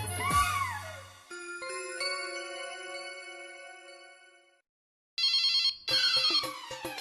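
A telephone rings with a sustained electronic tone that fades out, then after a brief silence comes a bright warbling ringtone burst, loud and close with no talk.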